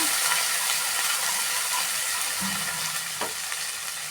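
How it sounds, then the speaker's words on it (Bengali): Spices with turmeric, chili and coriander powder sautéing in a pan, giving a steady close sizzling hiss with a few soft scraping stirs. "হলুদ গুঁড়ো, লঙ্কা গুঁড়ো, ধনে গুঁড়ো দিয়ে এটা কষিয়ে নেব"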